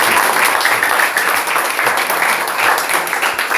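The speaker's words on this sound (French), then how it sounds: "Applaudissons pour le frère." Loud, close applause from a gathered audience at a religious meeting, a dense steady patter of many hands clapping without pause.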